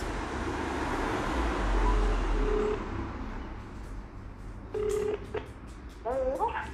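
Telephone dialing tones play over a speakerphone, short beeps near the end against steady background road noise, with a voice heard earlier.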